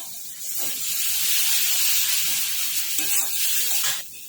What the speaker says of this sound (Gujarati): એક ચમચી જેવું પાણી એડ કરીશું આપણે